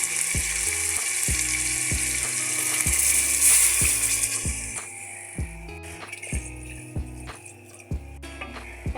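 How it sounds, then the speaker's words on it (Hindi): Water is poured into a pot of frying potatoes for aloo chicken. A loud sizzle bursts up, then fades as the water settles, while a rhythmic clicking repeats steadily underneath. "अब हम इसमें अपना पानी ऐड करेंगे।"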